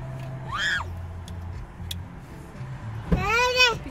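A child screams in two short shrill bursts, one early and one louder near the end, against background chatter and ambient noise.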